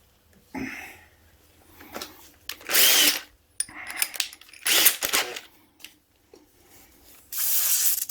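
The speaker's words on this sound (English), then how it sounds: "Right, I've got my 10 mil drill bit." Power drill fitted with a 10 mm bit, used in work on an off-road adventure trailer; several short bursts of whirring and grinding, each a second or so long, separated by pauses with faint clatter, close and fairly loud.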